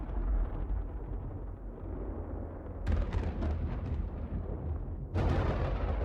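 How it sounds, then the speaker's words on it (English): Flashbang blasts in the video game Aethermancer, two sudden broadband bursts about two seconds apart that cut through a steady, rumbling battle backdrop, each followed by a crackling tail. "Oh, flashbang."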